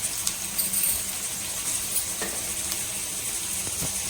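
Ingredients sauté in a pan for a tamarind fish curry, making a soft, continuous sizzle at moderate distance with a few faint clicks and no speech.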